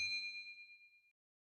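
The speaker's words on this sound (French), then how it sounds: "activer la petite cloche pour ne rater aucune actualité" A subscribe-notification bell sound effect gives a single clear metallic ding that decays smoothly over about a second, then silence.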